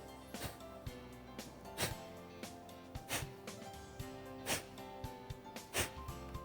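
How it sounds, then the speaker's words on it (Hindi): Forceful exhales pushed out through the nose in a yoga breathing exercise, about eight sharp bursts spaced roughly evenly, each a brief puff of air over a steady background of soft music. "सांस को ऐसे निकालना जैसे नाक साफ करने के लिए सांस को झटका देते हैं।"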